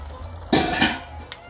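A short burst of metal utensil scraping and clinking in a pan while ground beef and cavatappi pasta are mixed together, close and fairly loud for about half a second, then fading to quiet.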